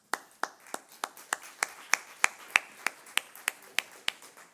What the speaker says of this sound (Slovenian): Lepo prosim za aplavz.